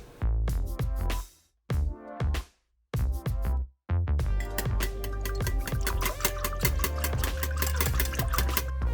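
Milk and eggs are whisked together in a bowl for a milk bread dough, giving quick rhythmic clattering strokes, close and loud, with brief pauses early on before a continuous run.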